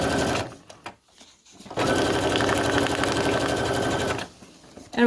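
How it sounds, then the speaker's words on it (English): Sewing machine stitching the outside of a fabric Halloween pocket, two loud, steady bursts of rapid mechanical whirring separated by a short pause, close up. "let's sew the second one up as well"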